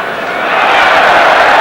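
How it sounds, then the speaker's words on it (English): Football stadium crowd at Lyon roaring in a sustained cheer for the French side during a 1996 UEFA Cup match, a dense wash of voices that swells louder after the first half-second and holds steady. "Every touch from the French side gets a lusty cheer."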